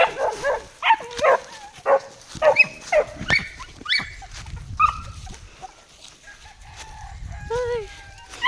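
Several dogs bark in short, loud bursts at a rural farm, with a rooster crowing nearby; the barking is dense at first, then thins into a quieter stretch with more distant calls.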